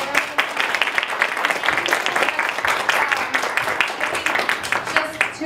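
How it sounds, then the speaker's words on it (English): Steady audience applause fills the room at the close of a lunchtime brown bag lecture, many hands clapping densely and evenly at moderate distance with no break. "I just want to give a final round of applause."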